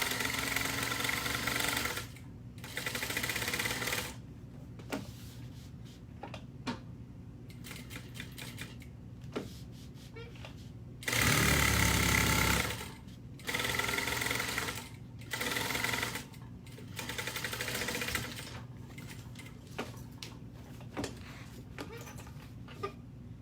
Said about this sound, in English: basting it 1/4 of an inch. On the side and end edges.